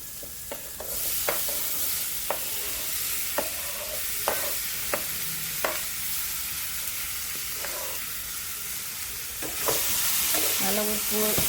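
Onions and tomatoes sauté in a pan with salt, a steady sizzling hiss broken by sharp scraping stirs of a spoon every second or so, growing louder toward the end.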